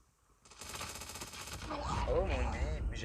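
Rapid automatic gunfire from a weapon in the Call of Duty Mobile video game, a dense burst of loud shots close up, continuing under game sound and a man's speech in the latter half.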